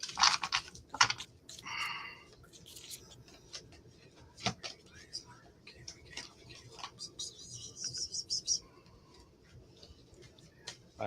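Rapid crisp riffling and tapping of tarot cards being shuffled up close, in uneven bursts with small pauses and faint background sounds.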